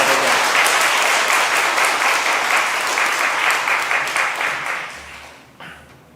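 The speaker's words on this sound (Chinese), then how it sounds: "再一次拍手啊！" A congregation at a Taiwanese-language church service claps together in a full, even round of applause that holds for several seconds, then tapers off and fades away.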